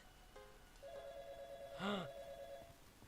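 A telephone rings in the video game YIIK, sounding as a faint electronic tone held for a couple of seconds, with a brief warbling burst in the middle, heard alone.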